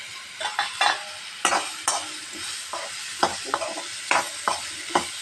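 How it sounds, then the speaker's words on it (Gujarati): Small pieces of ridge gourd stir-frying in a little oil, a soft continuous sizzle punctuated by a series of close, crisp spoon scrapes and knocks against the pan at uneven intervals, without voices. "આ રીતે પીસીસને થોડા તેલમાં જ ચડવા દઈશું"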